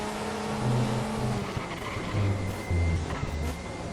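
Tyres lock up under hard braking on a 2005 DTM race car at the Aragón circuit in a racing game, brief squeals over droning engine notes that rise and fall as cars pass, no voices.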